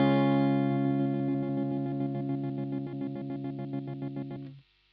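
A sustained distorted guitar note is chopped by a Boss DD-8 digital delay pedal into rapid, evenly stuttering pulses like machine-gun fire, then cuts off abruptly into silence.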